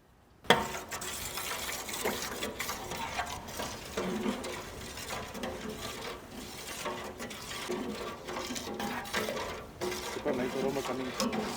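Continuous scraping and sloshing as a sauce of sugar, white vinegar and dark soy sauce is stirred in a bowl for Korean sweet and sour fried chicken, close and moderately quiet, with an even rhythm throughout.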